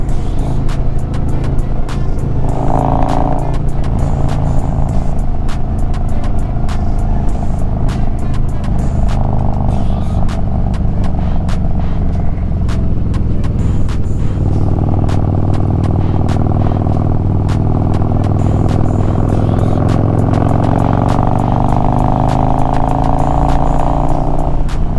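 A Harley-Davidson motorcycle cruising Texas back roads in third and fourth gear gives a loud, steady engine drone that holds for the whole stretch, its pitch slowly rising and falling with the throttle, with no voices.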